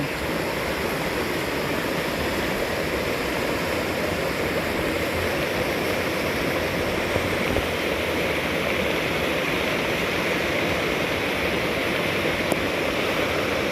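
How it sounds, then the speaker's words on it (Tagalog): Loud, steady roar of strong rushing floodwater from a typhoon, a dense broadband torrent that stays constant throughout with no voices. "Yan, laka na po ng tubig."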